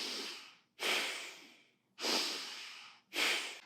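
Nasal breathing for running, three strong sniffing inhalations through the nose, each a close rushing breath that tapers off, evenly spaced about a second apart with no talking.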